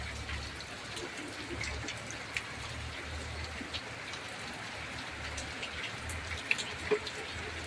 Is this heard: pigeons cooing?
no